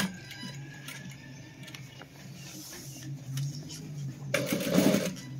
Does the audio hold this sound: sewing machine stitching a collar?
yes